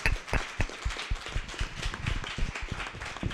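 A small live podcast audience claps in a quick, uneven patter, close and moderately loud, at a real estate planning event.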